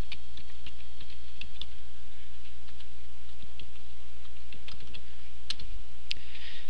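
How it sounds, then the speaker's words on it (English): Steady, quick keystrokes on a computer keyboard as an IP address is entered into a web browser's address bar, light clicks over a low background hum with no talking. "type in the IP of the DVR that you wrote down in your address bar"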